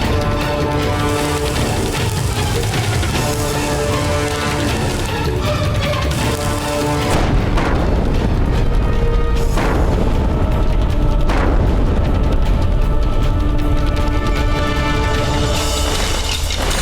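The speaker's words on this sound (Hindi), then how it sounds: "चलाओ तोप।" Loud, heavy booming blasts, several deep shots of a cannon fired from a fortress wall in succession over dense rumbling background noise.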